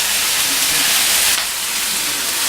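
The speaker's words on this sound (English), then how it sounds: "Just let it sit there and sear up the vegetables." Shrimp and vegetables sear in a hot stir-fry pan, giving a loud, steady sizzling hiss that holds evenly and eases slightly partway through.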